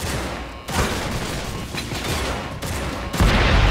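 Gunfire in the video game Chronicles of Riddick: Butcher Bay, rapid bursts of shots crackling almost nonstop, with a sharp cut partway through and a heavier, louder volley at the end.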